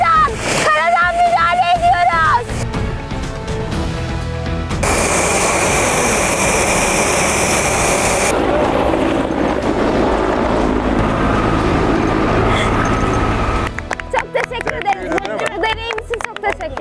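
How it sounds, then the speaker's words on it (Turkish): A firefighting helicopter drops water during a fire drill in Turkey, with loud rotor and engine roar followed by a rushing, hissing wash of falling water, and voices heard at the start and end. "helikopterle su boşalttık"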